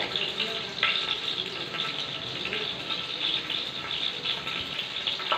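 Cardamom and cinnamon frying with grated carrot, making a steady close sizzle and crackle that runs unbroken from start to finish with no talking.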